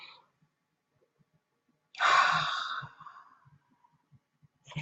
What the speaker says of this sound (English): Breathe again.